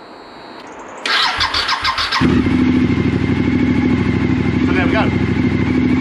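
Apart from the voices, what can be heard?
Suzuki SV1000 motorcycle engine starting and running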